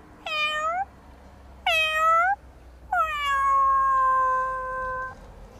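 A voice imitates a domestic cat meowing: three clear, close meows with falling pitch, the first two short and the last one drawn out and sustained. There is no other talk.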